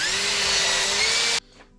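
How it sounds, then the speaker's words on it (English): A power drill bores a pilot hole for a 1/2-inch stainless steel screw, running loud and steady at close range for over a second before abruptly cutting off, leaving faint residual noise. "So I need a bigger tap drill, or pilot hole drill."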